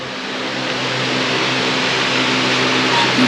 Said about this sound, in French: je suis désolée pour le bruit de fond des ventilateurs